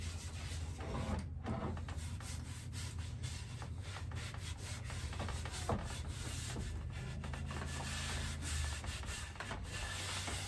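A cloth rubs wood polish onto a wooden axe handle, giving a steady, continuous rubbing and scrubbing sound, close and moderately loud, with no talk.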